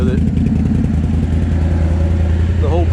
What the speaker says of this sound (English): But dang, that exhaust does sound good.